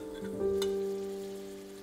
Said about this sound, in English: Occasionally, I like to stir fry the meat separately just a bit